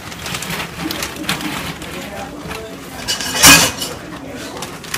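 A plastic bag of homemade ice cream ingredients is pushed into ice mixed with salt. A short, crunchy clatter of ice stands out mid-clip over quieter clinks and background noise, with voices nearby.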